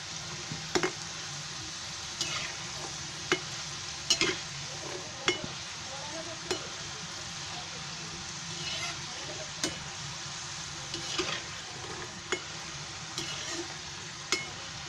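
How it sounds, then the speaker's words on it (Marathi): Salted shankarpali dough pieces sizzle steadily in hot oil as they fry until golden, with sharp clinks of a utensil stirring them at irregular intervals, close by and moderately loud. "एकदम मस्त भाजून घ्यायचे चांगले"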